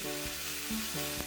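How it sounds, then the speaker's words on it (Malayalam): Mustard seeds splutter in hot ghee and oil, a quiet steady sizzle broken by a few soft pops and crackles, with no voices. "നെയ്യും ഓയിലും ചൂടായ ശേഷം അതിലേക്ക് 1 ടീസ്പൂൺ കടുക് ഇട്ട് പൊട്ടിക്കണം"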